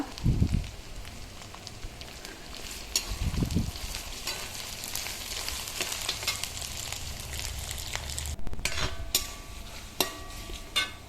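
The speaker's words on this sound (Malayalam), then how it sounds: "ഇതെല്ലാം നല്ലെണ്ണയിൽ നന്നായിട്ടൊന്ന് മൂപ്പിച്ചെടുത്ത്" Curry leaves and spices fry in sesame oil for a pickle, making a continuous close sizzle and crackle with a few louder bursts and some stirring, and no voices.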